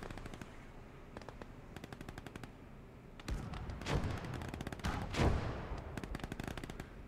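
Gunfire in the WWII strategy game Gates of Hell: Ostfront, with rapid machine-gun bursts crackling throughout and a few heavier, booming shots standing out midway, all without any talk.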